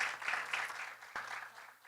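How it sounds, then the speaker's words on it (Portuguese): An audience at a corporate communication event claps in a brief, uneven burst that swells and fades over a couple of seconds, heard faintly and at some distance. "Uma salva de palmas."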